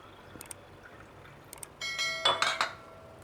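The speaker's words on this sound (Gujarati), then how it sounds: "આ રીતે આપણે પાણી એડ કરીશું" Water pours into a filter coffee pot, filled to about three quarters, with a few light clinks before a steady splashing pour that lasts roughly a second and then stops.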